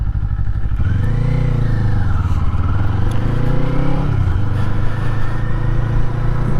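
A Kawasaki Eliminator motorcycle engine under way on a street ride, a loud steady drone that rises and falls through gear changes with wind noise, no voices.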